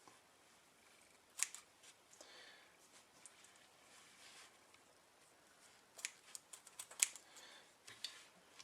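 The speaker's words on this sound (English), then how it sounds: "you get your twine and you cut it up into little even strands" Quiet snips of scissors cutting twine into short even strands for model trees, a few isolated clicks early, then a denser cluster of small crisp cuts near the end, close and faint with no voices.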